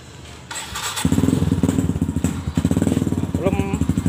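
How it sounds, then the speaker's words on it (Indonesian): A Kawasaki KLX motorcycle engine starting after weeks unused, a clatter and thump as it cranks, then a close, loud, rapid single-cylinder putter settling into idle while people talk nearby. "Kita cek sound kita hidupin. Udah lama ini mas bro nggak dibunyikan motornya"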